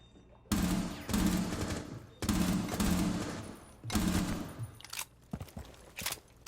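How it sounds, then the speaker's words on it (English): Short bursts from a P10 RONI submachine gun fitted with a muzzle brake in Rainbow Six Siege: five or six loud, close automatic bursts with brief gaps, then a few scattered single shots. "Because you're doing so much burst firing"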